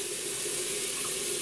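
Cold water runs steadily from a bathroom tap for rinsing shave soap off the face, a continuous close splashing stream with no talk.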